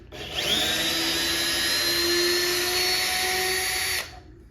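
A Bosch 12V cordless driver spinning in reverse, a steady high motor whine that holds for about three and a half seconds before cutting off, loud and close with no voices.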